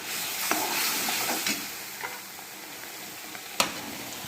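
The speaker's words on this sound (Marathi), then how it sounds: "हे सर्व व्यवस्थित आपले जे खडे मसाले आहेत ते पण आपण तेलामध्ये फ्राय करून घेणार।" Whole spices and curry leaves fry in hot oil for a drumstick-pod vegetable dish, a steady close sizzling hiss running throughout with a few light clinks and stirring taps, the sharpest near the end.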